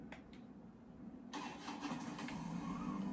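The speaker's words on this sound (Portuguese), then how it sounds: "Ó, mas já começamos com a motinha aqui do lado." A motorcycle resembling a Honda XRE in the Brazilian video game 171 starts up quietly after a couple of faint clicks, then a low engine idle runs steadily at a distance.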